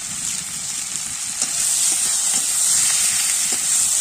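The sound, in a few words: telakucha greens being sautéed in a pan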